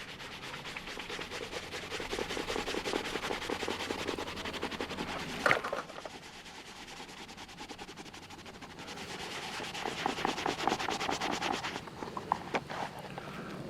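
Leather bushcraft gear being buffed by hand to work wax and soap into it at a camp, giving a steady close rubbing and scrubbing with rhythmic strokes throughout, briefly pausing midway before resuming.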